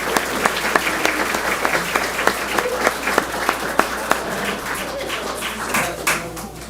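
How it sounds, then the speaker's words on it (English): An audience at an Ohio County Board of Education regular meeting gives a sustained round of applause, dense overlapping hand claps with sharper individual claps standing out, lasting several seconds before tapering off. "Let's give everyone one final round of applause."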